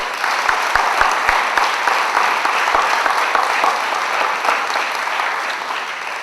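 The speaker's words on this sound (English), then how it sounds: "can you give them a big show of applause?" An audience at an alumni silver jubilee reunion gives sustained, loud applause, a dense wash of clapping with a few sharp thumps near the microphone.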